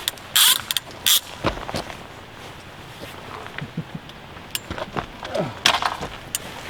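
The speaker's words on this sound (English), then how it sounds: "probably heard the ratchet going" A fishing reel's ratchet clicks as a fish takes line while chub fishing with pin and feeder gear on the Warwickshire Avon. Sharp bursts of rapid clicking come first, followed by lighter intermittent clicks nearby.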